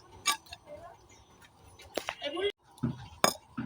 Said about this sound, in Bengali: ঠিক আছে কেটে নিই